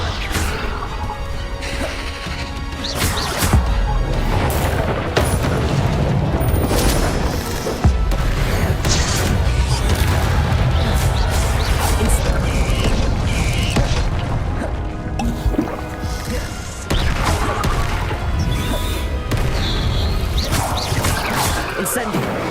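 Spell casting and explosions in the Hogwarts Legacy video game, with loud crashes, booms and whooshing blasts rapidly stacking up through the scene, mixed with shouted voices.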